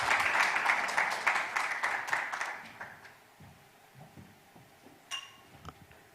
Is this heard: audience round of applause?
yes